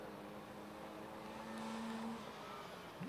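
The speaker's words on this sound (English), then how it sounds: "Gotta wind up those three cylinders in the Honda." A three-cylinder Honda race car drives into a turn at Rockford Speedway during spectator drags. Its engine is a faint, distant, steady drone that swells slightly as it passes, heard alone.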